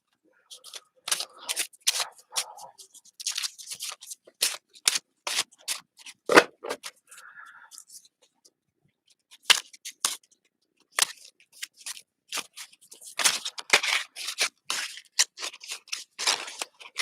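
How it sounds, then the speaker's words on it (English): Cards are handled and shuffled up close, a string of crisp clicks and flicks in uneven bursts separated by brief pauses. "Shuffle them up a little bit more."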